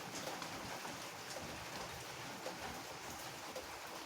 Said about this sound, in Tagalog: Masama pa ang panahon, malakas pang hangin, ulan-ulan pa siya.